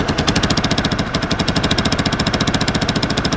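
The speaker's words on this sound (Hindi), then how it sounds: "अगर आप इंजन इसका सुन रहे होंगे तो इस हिसाब से आवाज़ आ रही है।" A motorcycle engine runs close and loud with a rough, uneven knocking rhythm, a rapid rattling chug that sounds off.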